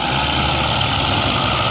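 A farm tractor labours under load hauling a trolley piled with sugarcane, its heavy engine droning in a steady, close, loud rumble with no pauses.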